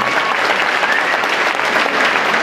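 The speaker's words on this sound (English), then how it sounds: "you deserve a big round of applause." An audience at a charity gala gives loud, sustained applause, many hands clapping densely and steadily from start to finish, with no voices over it.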